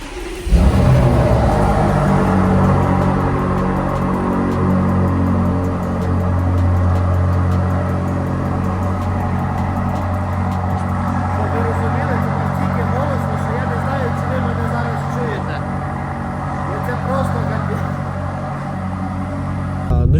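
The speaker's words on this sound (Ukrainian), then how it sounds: "зараз давайте послухаємо холодний запуск цієї машини в підвалі" A BMW M8 engine cold-starts and settles into a loud, steady idle in an echoing underground garage, continuing for many seconds.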